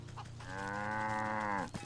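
An ox in the video game Wytchwood lets out a single long, sustained moo, deep and tonal, fading out abruptly after a short rumble of background game ambience.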